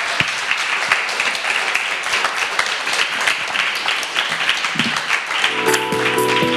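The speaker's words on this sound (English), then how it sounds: "let's give a round of applause for our Leeds student editors" An audience at a student editor candidates' event claps steadily in a dense, sustained round of applause, with a faint tonal sound entering near the end.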